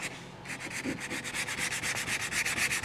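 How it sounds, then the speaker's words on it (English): Close, rhythmic sanding strokes rasp back and forth across a low spot on a van body panel in a steady, rapid pattern with no voices. "I'm sanding the low spot"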